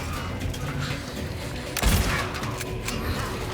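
Single gunshot fired in the Silent Hill 2 Remake video game, a sharp low boom standing out briefly over a steady background of game ambience.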